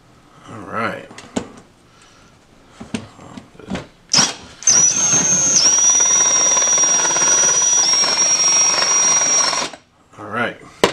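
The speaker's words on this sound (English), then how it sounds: "Turn it up to drill, I guess, because we're drilling." A power drill bores a hole for a DIY kayak power box, a steady high-pitched whine running for about five seconds, with brief talk and handling noises before and after.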